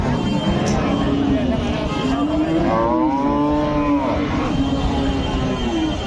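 A Friesian dairy cow moos at a busy cattle market in Bogura: one long, drawn-out, wavering low call, rising and falling, under steady crowd noise and nearby people talking.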